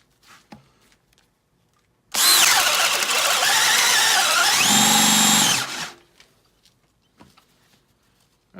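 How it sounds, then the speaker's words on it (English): A Makita XPH10 cordless drill on speed 2 in drill mode drives a 1-inch self-feeding auger bit into wood, a loud close whine lasting about three and a half seconds that dips in pitch as the bit bites, then stops into near silence. "Now we'll do the Makita XPH10 with a 1-inch self-feeding auger bit."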